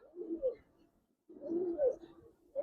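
Giribaz pigeons in a loft cooing up close: two clear, rolling coos separated by a short silence, with the start of a third at the end, in an otherwise quiet space.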